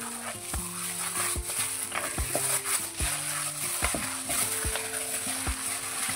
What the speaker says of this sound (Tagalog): Mix niya natin mabuti para isalat yung lasa